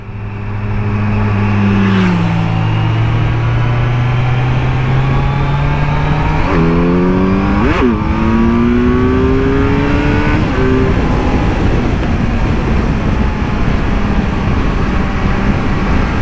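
A Kawasaki Z900 motorcycle engine revs and accelerates, loud and close, rising through the gears with pitch sweeps and brief shift dips, then settles into a sustained drone.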